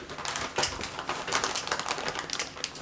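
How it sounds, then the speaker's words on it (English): KitchenAid culinary shears cut through pizza at home, a close, rapid series of crisp snipping and crunching clicks, with no talking. "these are KitchenAid brand scissors that live with our sharp knives, and yeah, that's culinary shears."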